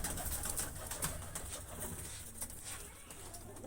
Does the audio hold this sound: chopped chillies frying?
no